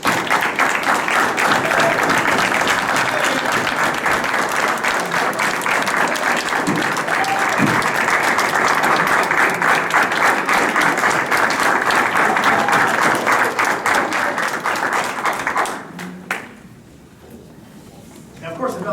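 Sustained, dense applause from a crowd at a municipal council meeting honoring clerks, loud and steady for about fifteen seconds before tapering off to a quieter room.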